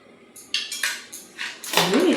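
A spoon scraping and clinking against a bowl while chaat is mixed with chaat masala and lemon juice, a few short light scrapes close by, then a louder final stir.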